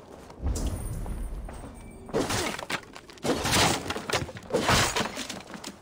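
Pots smash in Assassin's Creed Valhalla, several loud bursts of breaking and shattering crockery in quick succession, each with a thudding impact and a crackling tail.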